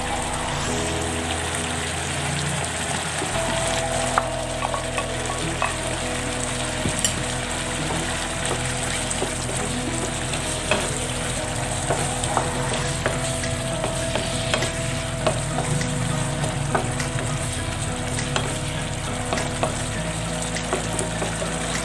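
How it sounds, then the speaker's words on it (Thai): Pork belly and stink beans stir-fry in a hot pan, holding a steady, loud sizzle throughout while a utensil scrapes and stirs with scattered clicks and knocks. "เราใส่สตอไปแล้วเราไม่ต้องผัดนานนะคะ"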